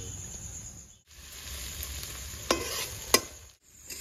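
Onions fry in oil in a pan with a steady broadband sizzle and hiss, broken by a brief pause and a couple of sharp spatters or utensil taps; no one speaks.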